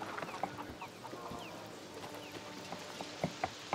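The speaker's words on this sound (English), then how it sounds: "Oh, that's a chicken." Chickens in the video game A Plague Tale: Requiem give a few short, fairly faint clucks, mostly near the end, over a steady bed of in-game ambience.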